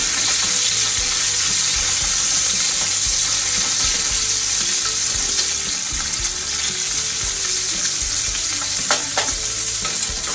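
Steady, loud sizzling and crackling of bacon frying in a pan, continuous throughout with no talking.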